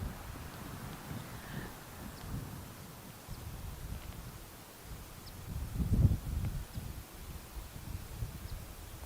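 Wind gusts sweep through the trees on a Pinehurst golf course, a faint, low rustling roar that swells around the middle and then eases again.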